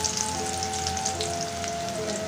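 Minced garlic fries in oil in a pan where sea fish was just cooked, making a steady, moderate sizzle with soft scattered crackles and a faint tonal hum beneath, with no speech.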